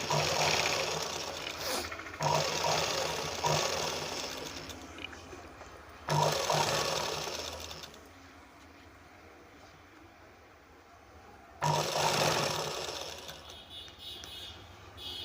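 Sewing machine stitching a lining blouse, running in close, steady whirring bursts of several seconds each, separated by brief quieter pauses as the fabric is repositioned.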